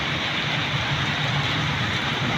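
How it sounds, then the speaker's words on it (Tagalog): Constant dense hiss of heavy rain falling, steady and enveloping throughout with no pauses. "Nalakas na ito kaya ng ulan"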